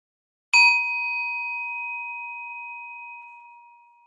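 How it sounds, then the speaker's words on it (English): A meditation bell is struck once, giving a clear, bright ring with sustained pure tones that fade slowly over several seconds in silence. "I will ring my bell, and when the sound of the bell is gone, I will continue guiding you."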